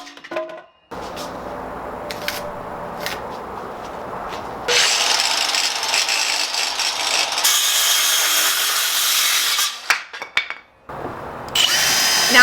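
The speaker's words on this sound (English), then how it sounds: "drilling the countersink so that way he can attach the 2x4 without splitting the wood" A power drill bores a countersink into a 2x4 for a bench built from an old door, running in long steady bursts with short pauses and a brief stop near the end, loud and close.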